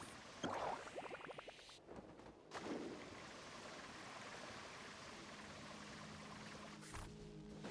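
Water rushing and splashing in Genshin Impact as a character surfs over waves, a steady broad wash with a few louder surges near the start, continuing without talk.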